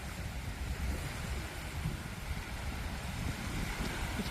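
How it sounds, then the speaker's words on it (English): A ferry arrives at an island pier on Koh Rong Sanloem, a steady low boat engine rumble mixed with waves and wind buffeting the microphone, with no voices. "Another ferry's just come in."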